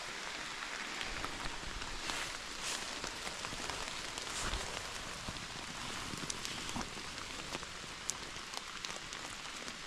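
Rain falls on the Appalachian Trail, a steady hiss of drops pattering on the ground and foliage, faint and even throughout with no voices.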